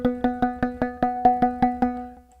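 A bright synthesizer key note with no low-pass filter repeats ten times in an even pulse, each hit sharp and buzzy with a quick decay, the last one fading out.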